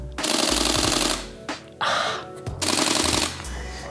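A Canon 1DX Mark II camera fires rapid burst shots, its shutter rattling in fast machine-like runs of clicks, loud and close, in three bursts separated by brief gaps.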